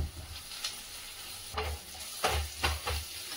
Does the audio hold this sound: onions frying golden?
yes